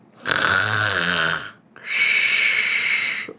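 A voice imitates loud snoring: two long, rasping, exaggerated snores, each a drawn-out rattling breath, close and forceful.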